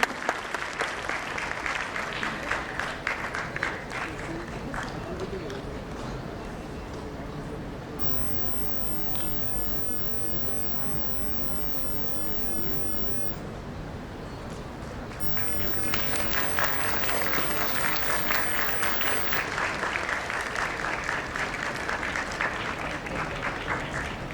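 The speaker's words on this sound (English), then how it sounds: "Please welcome Mrs. Janvi Shirish Kedare with a huge round of applause" An audience at a school golden jubilee celebration gives a guest a long round of applause, the clapping strong at first, dipping under a voice speaking in the middle, then swelling again near the end.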